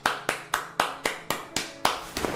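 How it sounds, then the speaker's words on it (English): Eight sharp slapping claps in a steady rhythm, each a bright percussive smack with a short decay, close and loud with no voices. "booty clapping sounds"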